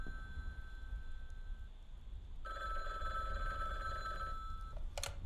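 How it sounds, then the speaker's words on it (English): A telephone rings in an apartment, a faint tone at first, then a louder, sustained ringing with layered bell-like tones over steady background noise, cutting off near the end. "Somebody's calling our phone."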